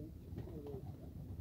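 A pigeon coos softly outdoors, a brief low warbling call over faint background noise.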